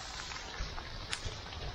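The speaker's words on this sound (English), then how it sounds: "Look how the sun comes through with the rain" Light rain in spring woodland, a faint, steady patter and hiss with a few slightly louder drops standing out.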